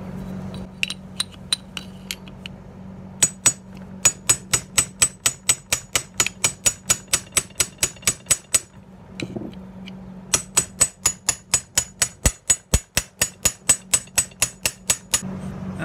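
Metal hammer hits a steel wedge driven in to free the electric motor from a vintage motorized bumper car, landing in two long runs of sharp, ringing blows at a steady quick rhythm with a short pause between, close and loud.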